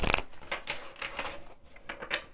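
Old-world tarot cards shuffled by hand close up during a reading, giving a series of soft riffling and slapping bursts at an uneven rhythm, with no talking.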